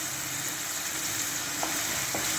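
Chicken with onion, capsicum and green chilli fries in a pan, giving a steady, close sizzling hiss with a couple of small crackles and no talking.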